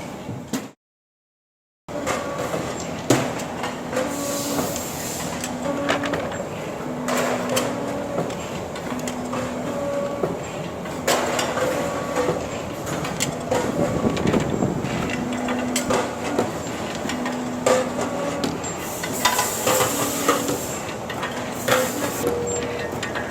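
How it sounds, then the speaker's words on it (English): A roller production machine for brake hardware kits runs continuously on a factory floor, with a steady mechanical drone, regular repeating clunks and whirring cycles, loud and close after a brief silence at the start. "Here is our roller production machine from the Suzhou."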